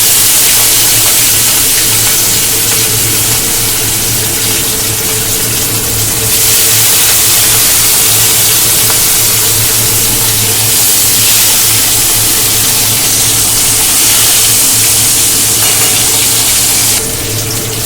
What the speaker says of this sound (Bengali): মাছটা আমি তেলে দিয়ে দিচ্ছি।